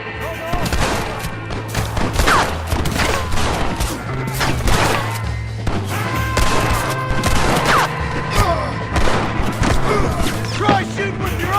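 Rapid gunfire in the Red Dead Redemption video game, dense volleys of shots and booms over game music and ambience, with voices mixed in.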